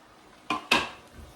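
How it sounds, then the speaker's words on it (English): A spoon stirs sugar into beetroot chutney in a pot, giving two quick scraping clinks against the metal close by in a quiet kitchen. "And you want to stir this until it's all dissolved."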